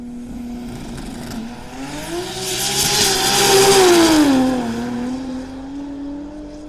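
An all-wheel-drive Mazda RX7 drag car launches on a no-prep strip and pulls hard on boost, its engine pitch rising and swelling louder as it roars past before fading slightly, with a hint of tire squeal.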